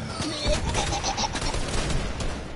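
Pistol gunfire in the video game Fortnite, a quick string of close shots blended into dense, loud game noise with a busy rumbling background.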